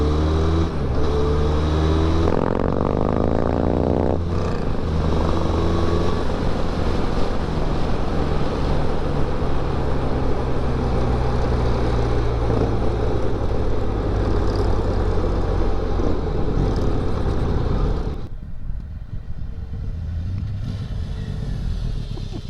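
A Harley-Davidson X500 motorcycle on a test ride near Tamworth, NSW, its engine droning loud and continuous beneath heavy wind rush until it drops away abruptly near the end.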